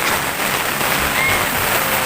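Heavy rain pours down at an overnight campsite during a storm, a loud steady hiss of drops drumming on surfaces with no break.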